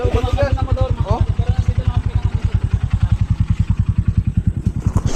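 Motorcycle engine stuck in soft, muddy ground, with a steady rapid thumping idle close by and people talking over it at the start.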